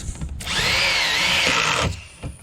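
A power drill bores into wood while building a raised garden bed, one steady high whine lasting about a second and a half, close and loud, with brief handling knocks before and after.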